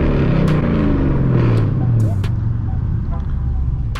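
A Dodge muscle car engine roars loud and near in a rev that swells, then drops and settles into a lower, rough idle rumble.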